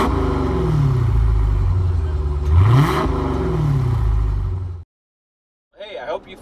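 A car revs and pulls away at a new car and truck driving event, its engine rising then fading over several seconds, cutting to silence before a brief voice at the end.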